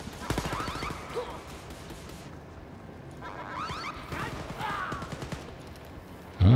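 Turret gunfire in Wolfenstein: Youngblood rattles off in rapid automatic bursts, mid-distance and moderately loud, stopping and starting again under faint game noise.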